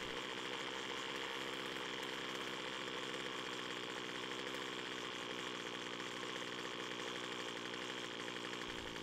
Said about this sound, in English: And the engine is slowing down again.